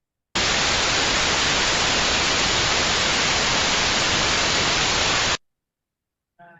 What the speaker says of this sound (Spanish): Y después pasamos con el ruido blanco, que es el que va a afectar a la señal.